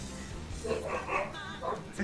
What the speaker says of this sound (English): Your dogs are going nuts.